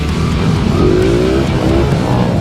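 Cars race around a lot with a constant loud engine roar, rising revs and a brief tire squeal, steady and close throughout.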